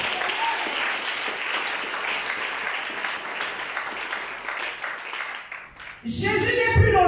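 A church congregation applauding and cheering to acclaim the Lord, a sustained wash of clapping and voices that fades near the end before a louder burst of sound.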